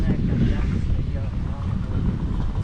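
Steady, heavy wind rumble buffets a camera microphone while panning around the seafront in Palmanova, Mallorca, heading straight into the wind; a dense, continuous low roar fills the whole stretch with no pauses.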